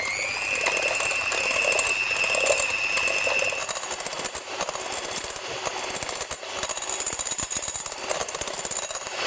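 An electric mixer whisks egg whites toward soft peaks for a pavlova, a steady rattling whir with a rising whine early on, close and continuous, with clattering beater noise throughout.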